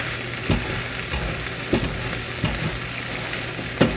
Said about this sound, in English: This is the stir fry.